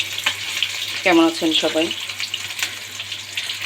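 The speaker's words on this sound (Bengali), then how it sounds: "এই জন্য একটু মাছের তেলও বেশি দিয়ে ফেলছি, আর মাছ থেকে তেল উঠছে।" Fish frying in plenty of oil gives a steady close sizzle and crackle throughout, with a woman briefly greeting in speech over it.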